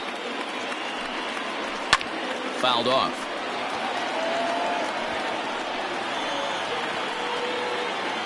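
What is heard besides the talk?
crowd cheering in MLB The Show 20 baseball video game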